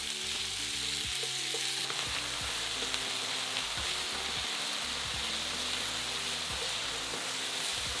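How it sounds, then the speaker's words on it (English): Beef sears in hot oil in a large frying pan over high heat, a steady dense sizzle and crackle running throughout with occasional stirring knocks and scrapes, no voices. "Add half the beef to the pan and sear until lightly browned all over."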